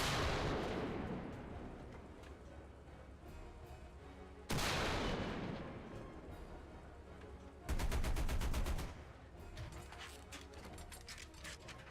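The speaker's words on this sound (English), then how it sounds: "Let's fire some shells right here." Heavy tank cannon shells fired in War Thunder, three loud booming blasts spaced several seconds apart, each with a sharp crack and long rumbling decay, the last followed by a rapid metallic rattling burst.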